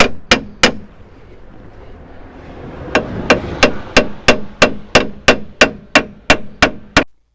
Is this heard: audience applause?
no